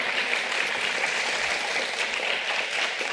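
Audience applause after the final round of an international mediation competition, a steady wash of clapping from a large hall that holds evenly for a few seconds.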